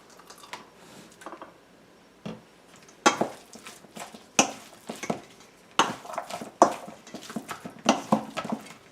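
A spoon scooping chicken salad dressing and tapping against a bowl, giving a series of sharp clinks and scrapes in irregular bursts, close and fairly loud, with quiet gaps between the scoops.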